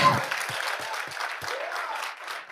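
Audience applause at a church testimony gathering: steady, dense clapping from a crowd that carries on for a few seconds, with a voice faintly underneath.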